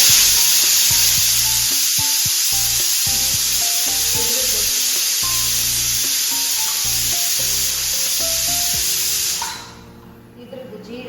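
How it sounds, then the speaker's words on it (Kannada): Cumin seeds tempering in hot ghee for an Indian dish, a steady loud sizzle and frying hiss with stirring clatter, running continuously before dropping away near the end. "ಇದ್ರದ್ದು ಜೀರದ ಒಗ್ಗರಣೆ ಹಾಕಬೇಕು ಯಾವುದ್ರ ಜೊತೆ, ತುಪ್ಪದ ಜೊತೆ."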